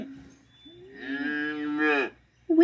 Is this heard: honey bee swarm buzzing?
no